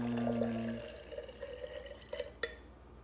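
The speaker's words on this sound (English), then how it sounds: "we're going to add a little bit of water to it here" Water poured into a cleaned container for a lava lamp demonstration, a short run of dripping, trickling liquid with a few brighter splashes near the end, close and fairly quiet, no talking.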